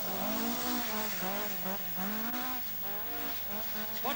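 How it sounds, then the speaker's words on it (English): A Toyota Celica rally car on a downhill run at the 1981 Welsh Rallysprint locks its front wheels, the engine note rising and falling under a long, loud wavering tyre squeal. "Locked up the front wheels there."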